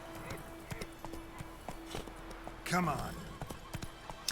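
Roach, Geralt's horse in The Witcher 3, clopping along with steady hoofbeats while a short neigh or snort rises near the end; someone speaks briefly over the hooves.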